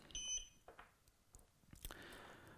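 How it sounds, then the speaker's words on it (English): A few faint, thin electronic beeps chirp at the start from a fireworks firing controller, followed by soft handling clicks and a low hiss. "The controller now beeps at me because it wants me to turn the key over to fire"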